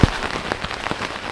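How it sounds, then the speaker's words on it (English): Steady rain patters on a tent during a solo canoe camping trip on the French River, a dense, close drumming of drops with scattered louder hits. "it just started raining again maybe an hour ago"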